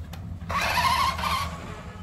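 A remote control car strains to pull a toy John Deere tractor, its small electric motor giving a close, steady whirring whine that swells for about a second before easing back to the background hum.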